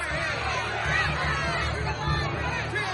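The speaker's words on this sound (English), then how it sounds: "The mob roared even louder." Angry mob shouting and roaring together, a dense, continuous wall of raised voices and babble that stays loud and close without a break.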